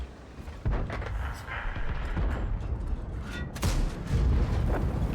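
Tank guns in World of Tanks fire as heavy booms, one early in the clip and a sharper blast a few seconds later, over a constant rumble of engines and battle noise.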